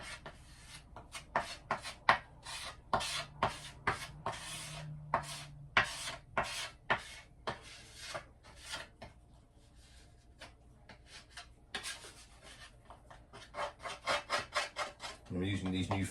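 Hand filing of big boy body filler on a boat's stern bulkhead with new filing blades, repeated rasping strokes in uneven bursts, close and fairly loud, no talking.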